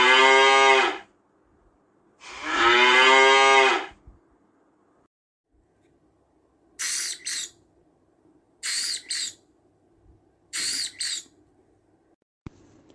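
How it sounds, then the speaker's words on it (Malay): A cow moos twice in a recording, two long, loud, deep lowing calls, followed by three pairs of short, sharp high chirps. "bunyi lembu melenguh ialah merupakan bunyi berfrekuensi rendah"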